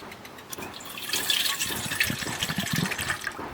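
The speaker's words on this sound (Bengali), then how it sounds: "ডাবের জলটাকে ঢেলে নিচ্ছি" Coconut water pours from a green coconut into a container for homemade ice cream, a continuous splashing liquid stream lasting a few seconds, close and moderately loud, with no voices.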